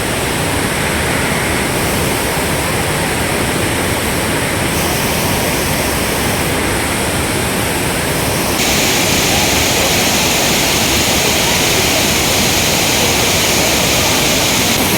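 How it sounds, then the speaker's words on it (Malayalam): Charpa waterfall at Athirappilly roars close by, a loud, steady broadband rush of falling water that fills the whole stretch without pause or voices. "ഗൈസ് ചാർപ്പ വെള്ളച്ചാട്ടം."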